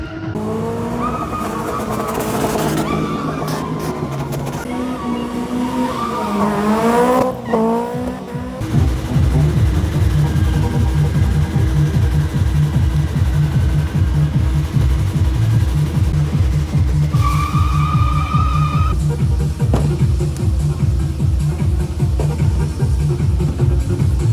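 Race cars at the King of the Cone event rev loudly, then hold a sustained roaring engine drone as tyres squeal and skid, with a sharp squeal rising partway through, all loud and close with no talk.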